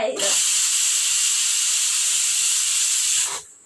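A pressure cooker of mutton curry lets off a loud, close, high-pitched hissing whistle of steam that holds steady for about three seconds before tapering away.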